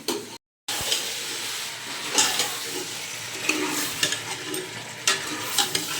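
Onions browning in a hot pan with spices in a home village kitchen, a steady sizzle with scraping stirs and small crackles, continuous after a brief gap at the start.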